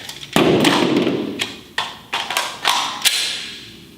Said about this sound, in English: this is a strong hand only reload at more or less full speed